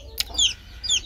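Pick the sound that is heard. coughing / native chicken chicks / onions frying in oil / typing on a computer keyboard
native chicken chicks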